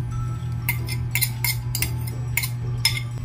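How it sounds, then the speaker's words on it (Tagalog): A spoon stirs crushed mango into sweetened cream with condensed milk in a bowl, giving bright, irregular clinks against the dish over a steady low hum. "ihahalo na po natin yung dinurog na mangga"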